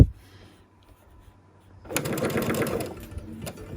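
A sewing machine stitches pieced quilt blocks for a Tula Pink butterfly quilt, starting after a quiet pause and then running in a close, steady, whirring burst that eases off near the end.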